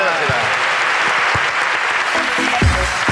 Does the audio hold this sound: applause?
yes